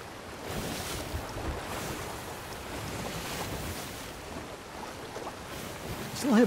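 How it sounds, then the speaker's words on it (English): Water sloshes and burbles aboard a wooden pirate ship in Sea of Thieves, as though leaking into the hull, in a steady wash with wind and sea noise throughout. "I still hear burbling as though water's coming in somewhere"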